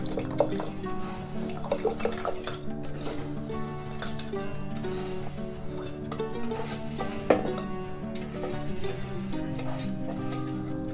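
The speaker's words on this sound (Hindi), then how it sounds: "तो ये देखिए हमारा पानी भी बॉयल हो रहा है" A pot of water for rice bubbles and simmers on a kitchen stove, a steady close burbling with scattered drips and light clinks, with no talking.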